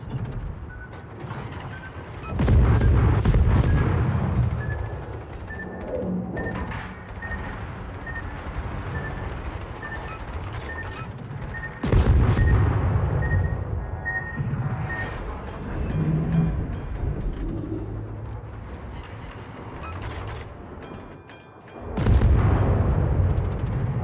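Warship guns firing in World of Warships, three heavy booming salvos spaced several seconds apart, each followed by rumbling decay and mechanical turret clatter, with no voices.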